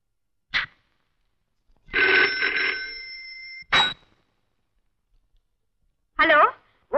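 Telephone ringing in a home, a few short bursts of bright electronic ring separated by gaps, fairly close and clear, with brief speech between rings.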